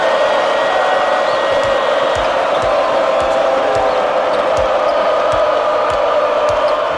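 A college basketball crowd at Wake Forest versus North Carolina roars steadily and loudly throughout, a dense wall of cheering with the thud of a bouncing ball underneath.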